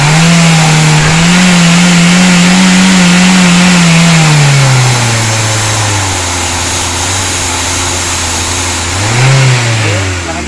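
A Toyota Avanza or Daihatsu Xenia engine revved hard during a tune-up, rising loud and close, easing back to a low idle, then blipped briefly again near the end.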